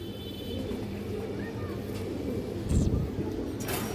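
Pigeons of high-quality breeding lines give low, faint coos under a constant murmur of background noise, broken by a brief dull thump near the end.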